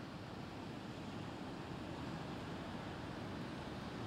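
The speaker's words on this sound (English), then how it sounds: "the waves are something else" Waves wash continuously on the shore as a broad, steady roar, faint and distant, with no breaks or voices, in rainy, windy weather.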